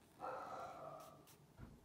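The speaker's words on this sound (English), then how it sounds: "As you can hear, a little bit of barking still resonating." A dog gives one drawn-out, faint bark or yelp from a distance in a quiet indoor room, followed by a brief softer yip.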